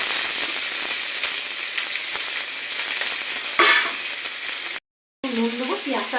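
Onions hit hot mustard oil in a wok with a loud, close sizzle and steady frying hiss. A burst of stirring comes midway, then a brief cut to silence before the sizzle resumes with a faint voice.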